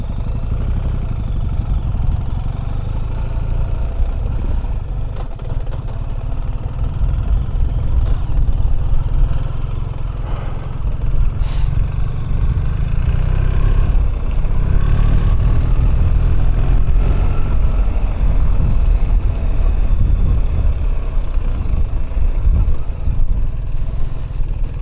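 BMW 1300GS adventure motorcycle ridden along a small, easy single-track trail, its engine running steadily close by for the whole stretch, with low rumbling drone and occasional rises in revs, no talking.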